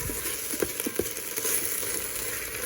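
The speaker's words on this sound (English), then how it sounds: "Now that all the tomato paste is in there, I'm going to cook that down." Tomato paste sizzles and fries in an Instant Pot for a smokey garbanzo bean stew, a steady low crackle with a few soft stirring taps, close and fairly quiet.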